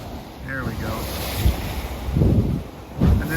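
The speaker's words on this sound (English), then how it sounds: "And then there's a slam." A Hallberg Rassy 44 sailboat at sea, its hull slamming into waves with dull heavy thuds under steady wind and rushing water, a couple of impacts close and loud against constant noise.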